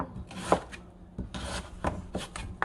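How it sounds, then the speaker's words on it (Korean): A knife cutting radish into large chunks for chili-seed kimchi, with several sharp chopping strikes on a board at uneven intervals, close and fairly quiet. "무도 나중에 먹을 거니까 이렇게 큼직큼직하게 썰어주세요"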